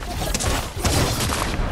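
Gunfire in Fortnite Chapter 4 Season 2: a dense, continuous burst of shots with repeated sharp cracks and booming hits across the whole stretch, loud and close, with game sounds layered in.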